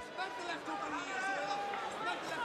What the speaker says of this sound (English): Crowd starting to get a little restless here.